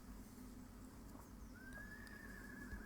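A horse whinnies once faintly over a steady low background hum, with the neigh drawn out for about a second and no talking over it.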